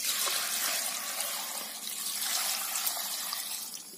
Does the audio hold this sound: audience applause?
no